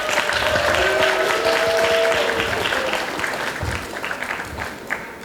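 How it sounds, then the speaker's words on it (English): An audience applauds young people on stage at a high school teen summit in Phenix City, Alabama, with steady full clapping throughout, gradually thinning toward the end while faint tones sound underneath. "I want to give the young people on stage a round of applause"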